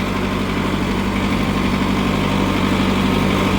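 A Kubota MU5501 55 hp 4WD tractor engine idles close by with a steady, low, even diesel hum that stays constant and alone, with no revving or voices.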